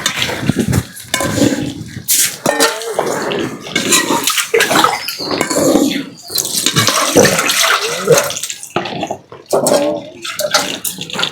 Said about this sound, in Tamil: அங்கே போய் தண்ணி ஊற்றி போடு